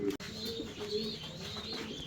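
Fancy pigeons on a Bangladeshi breeding farm coo softly and steadily, a low murmuring call repeated through the short stretch with faint higher chirps in the background.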